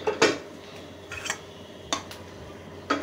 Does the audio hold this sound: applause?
no